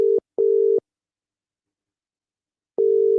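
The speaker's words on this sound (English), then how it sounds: "it's calling, but it's not ringing, so can't get through to Guy" A phone call that will not connect gives a busy signal: short, clean electronic beeps of a single pitch, two in quick succession then another after a gap of silence, close and clear.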